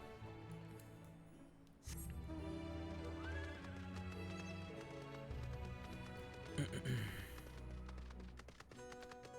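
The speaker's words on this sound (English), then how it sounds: "I hope you don't mind me bringing my horse into here." A horse in Final Fantasy XIV whinnies loudly over game music, with clip-clopping hooves and tapping steps close by.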